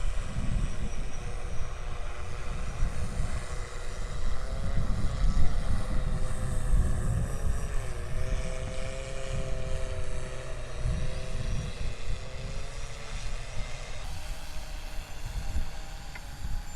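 Xplorer drone flying in auto flight mode, a steady close propeller and motor drone with whining tonal hum that shifts pitch midway, continuous and loud with no talk.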